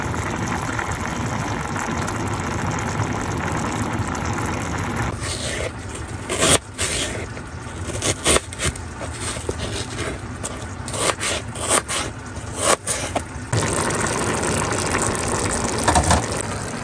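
Water runs and gushes steadily while a motorhome bathroom is being washed, with scraping and splashing bursts breaking up the flow midway before the steady rush returns.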